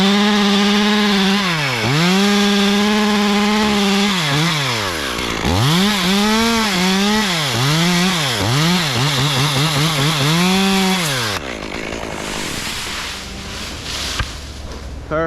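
A chainsaw cuts through a split oak tree at close range, the engine loud and steady with repeated dips and rises in pitch as it bogs into the wood and revs back up, with no talk.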